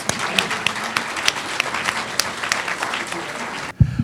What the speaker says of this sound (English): I hope you'll join me in giving you a round of applause for your accomplishment today.